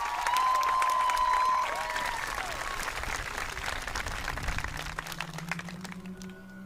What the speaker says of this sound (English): I think they deserve a round of applause as well.